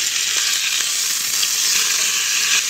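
Bacon sizzling in a frying pan during a camping breakfast cooked in a van, a dense, loud, continuous crackling hiss with no voices over it.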